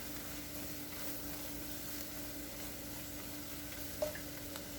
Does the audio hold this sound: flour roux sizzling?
yes